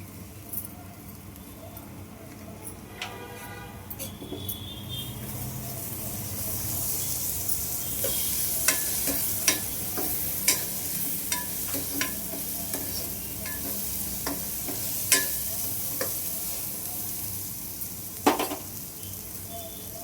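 Sweet corn frying in butter with chaat masala in a pan, a steady soft sizzle with repeated stirring scrapes and occasional sharp clicks of a spoon against the pan, close and continuous throughout.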